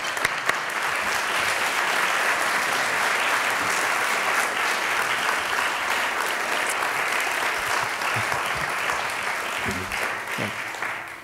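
An audience breaks into loud, sustained applause welcoming Sam Daley-Harris, dense clapping that holds steady for several seconds before tapering slightly toward the end.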